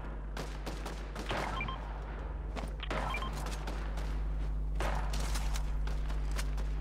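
Gunfire in the video game Fortnite crackles in several short bursts of rapid shots over a low constant hum, moderately loud and somewhat distant, with no talk.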